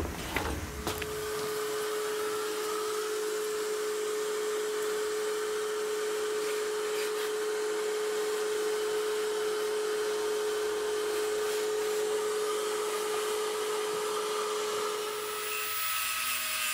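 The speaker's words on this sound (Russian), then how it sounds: "Ну, все, пылесосим, чистим." A vacuum cleaner runs inside the rust-damaged wheel arch of a Volkswagen Passat B3, a steady close whining drone that starts abruptly and holds for about fifteen seconds before cutting off.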